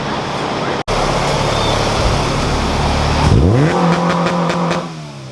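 A Honda Type-R engine on a dyno holds a rough steady idle, then revs up hard against two-step launch control, sputtering with rapid popping bursts at the limiter.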